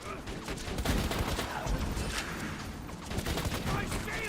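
Rapid gunfire from a gun in a Borderlands video game mod, a continuous loud fusillade of overlapping shots with a voice talking over it.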